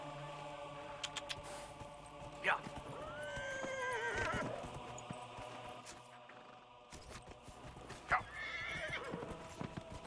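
A horse in the video game Dragon Age Inquisition gallops with steady clip-clop hoofbeats and lets out two loud whinnies, with game ambience underneath and faint keyboard taps.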